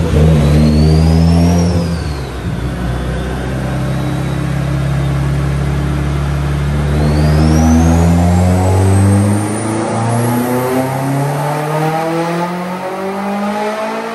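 A turbocharged Mitsubishi Evo X engine revs hard on a dyno during tuning, loud and close, its rising and falling pitch sweeping through long pulls with a whistling turbo whine overhead and no talking.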